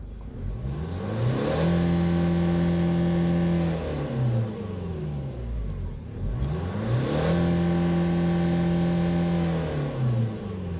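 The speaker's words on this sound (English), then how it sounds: "Oh, let's try to accelerate as well. Show you the acceleration here." A 2008 Renault Samsung QM5 diesel engine with automatic transmission revs up loudly and winds back down, twice in a row, the pitch climbing steadily and then falling away with no talking.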